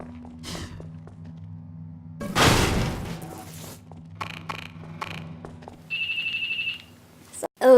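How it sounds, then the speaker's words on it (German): A telephone ringing in Half-Life 2, a steady electronic trill pulsing for about a second and a half amid game sounds, thuds and a burst of noise. "da hat jetzt voll krasses Telefon geklingelt"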